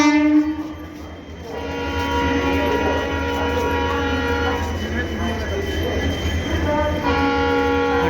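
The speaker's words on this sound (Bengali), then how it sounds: "ট্রেনটা কিন্তু কেটে যাবে ডান দিক দিয়ে।" A train rolls past a railway platform near Ghatshila, a steady low rumble of wheels with drawn-out squealing tones and a brief horn-like blast at the start, loud and continuous, with faint voices in the background.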